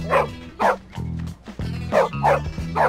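Repeated sharp barks from a dog in the video game Bully, about six quick yaps spread over a few seconds, close and clear over background game music.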